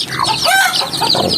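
Chickens, green-and-black jungle-type fowl, clucking with a short crow-like call rising over them, close and lively in a brief burst without speech.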